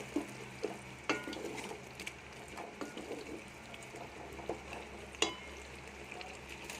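Masala sizzling and frying in a pan with turmeric and Kashmiri red chili, a steady soft crackle with scattered stirring clicks and scrapes, fairly quiet and without talk.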